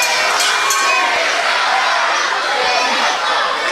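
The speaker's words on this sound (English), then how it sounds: "Good grief, this crowd is livid" A furious wrestling arena crowd roars and jeers after a match, a loud, dense wall of shouting and chatter that holds steady throughout with no single voice standing out.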